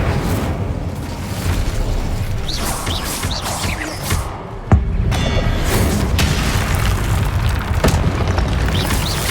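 Fire spell blasts from Hogwarts Legacy gameplay: loud booming bursts and crackling whooshes, one sharp explosive hit near the middle, over a busy game soundscape.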